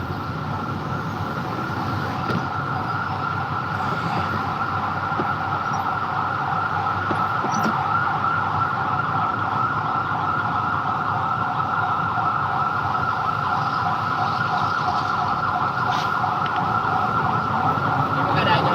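Ambulance siren wailing steadily on the road, heard from inside a moving truck over continuous engine and road rumble, holding at a constant level throughout with occasional faint voices.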